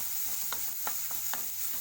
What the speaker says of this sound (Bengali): দেখো, ভালোই ভাজা ভাজা হয়ে এসছে।